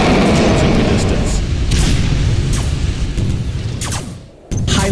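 Heavy, rumbling booms of bombing explosions in the video game Command and Conquer Generals, a loud continuous barrage that briefly dips near the end before another blast, with game voice lines over it.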